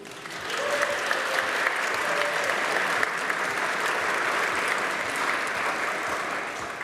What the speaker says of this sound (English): Can we give them a big round of applause, please?